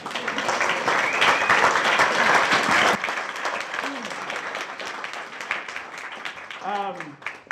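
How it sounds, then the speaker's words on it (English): Conference hall audience bursts into loud, dense applause that fades after a few seconds into scattered claps, with a voice speaking briefly near the end. "give yourself a round of applause"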